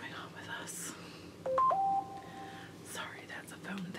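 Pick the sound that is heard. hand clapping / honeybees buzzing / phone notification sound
phone notification sound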